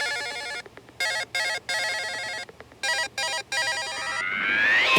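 A mobile phone rings loudly in repeated bursts of a bright electronic ringtone with short gaps between them, then a rising synthetic swell closes the passage, with no speech.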